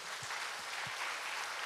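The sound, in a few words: congregation applause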